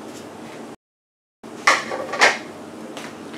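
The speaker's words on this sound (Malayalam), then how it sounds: "1 വലിയ സവാള ചെറുതായിട്ടൊന്ന് കട്ട് ചെയ്തെടുത്തിട്ടുണ്ട്, അതിട്ട് കൊടുക്കാം" A large chopped onion is tipped into a pan with ginger and garlic: a brief silence, then two sharp clattering bursts over a steady background hiss, with no talking.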